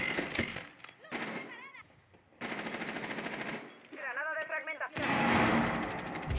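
Rapid bursts of gunfire in Rainbow Six Siege, loud and repeated, with excited shouting voices layered over the shots throughout.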